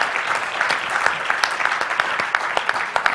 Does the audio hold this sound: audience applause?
yes